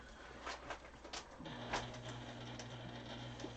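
A sewing machine stitches fabric face masks, a faint mechanical whir that starts about halfway through and hums steadily, with a few light clicks and taps before it in a quiet room.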